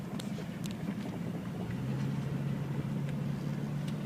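Classic Jeep Cherokee engine drones steadily from inside the cabin while driving, a low continuous hum with road and wind noise, moderately quiet and unbroken throughout.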